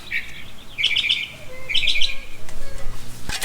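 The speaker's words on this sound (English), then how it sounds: "It's a pretty bird." A pet bird chirps in short, bright bursts of tweets, several distinct phrases spaced across the moment, fairly close and clear over quiet background noise with no talking.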